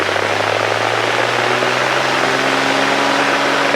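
Steady, loud propeller engine drone from a Cessna 210 Centurion lining up and taking off on runway 14, a continuous full-power roar with a rising tonal hum and no voices.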